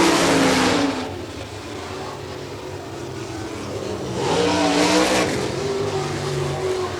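Sprint race cars roar past on a dirt track at Barberville, Florida, their engines loud and droning as one fades away and another swells in with rising revs and a brief tire slide.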